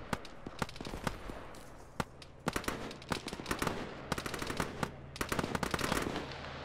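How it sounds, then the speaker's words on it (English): Rapid bursts of automatic gunfire from the Arma military video game as a squad lays down cover fire from a building, sharp repeated volleys and single shots crackling in quick succession with no talk. "You got guys in that building up there laying cover fire down."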